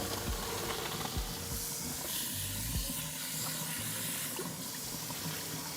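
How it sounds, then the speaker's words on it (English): Tap water runs in a kitchen while pasta for mac and cheese is drained, a steady close hiss and splash with some low clunks of handling underneath. "I'm gonna go ahead and turn this water on so it's gonna get a little noisy"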